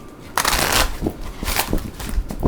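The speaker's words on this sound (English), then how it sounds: "Cards do not want to shuffle for some reason." Tarot cards are shuffled by hand in close, crisp bursts of riffling and slapping, several uneven flurries across a couple of seconds with no voice over them.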